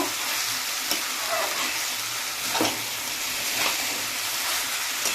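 Shrimp and banana stem curry frying in a pan with spices, a steady close sizzle with occasional stirring scrapes throughout, no voices.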